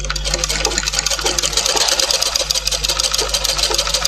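Sewing machine running steadily while stitching a side seam on a tailoring job, a continuous close mechanical whir with a low motor hum and rapid needle clatter, no voices.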